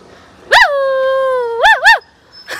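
A person's voice mimics a dog: one long drawn-out howl-like bark followed by two quick yips, loud and close, with no other talking.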